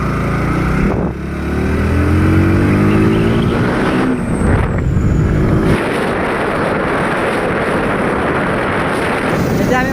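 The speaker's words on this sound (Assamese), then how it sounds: "বাইক চলাই গৈ আছোঁ।" A motorbike ride homeward, its engine humming close at first, then shifting gears and surging as wind buffets the microphone in a loud, rushing blur.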